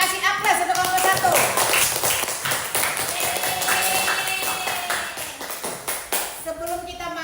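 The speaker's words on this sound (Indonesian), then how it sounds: "Kita kasih aplaus untuk kelompok 1" Classroom applause for a presentation group, many hands clapping in a steady dense patter with children's voices chattering over it throughout.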